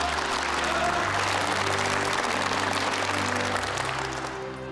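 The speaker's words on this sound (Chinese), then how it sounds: "我们以热烈的掌声欢迎吕首长来参加我们的现场会" Warm, sustained applause from a seated crowd welcoming a guest at an on-site military meeting, dense steady clapping that tapers slightly at the end.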